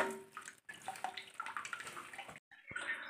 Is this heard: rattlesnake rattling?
no